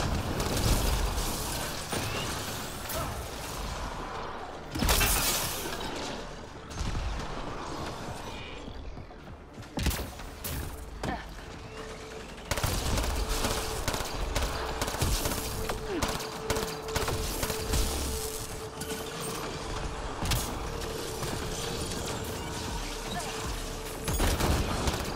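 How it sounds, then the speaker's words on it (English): Gunshots ring out in the video game Apex Legends, with scattered cracks and bursts over constant mechanical game noise, some creaks, and occasional talk. "Where's that shot coming from?"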